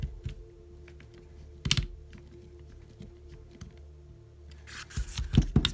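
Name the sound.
screwing screws into Tamiya BIGWIG rear suspension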